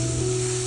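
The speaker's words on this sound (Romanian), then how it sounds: "aici am călit puțin legume, de acum am să pun ouăle" Eggs frying in a pan with lightly sautéed vegetables, a steady close hiss of sizzling oil with a low hum beneath it and no speech.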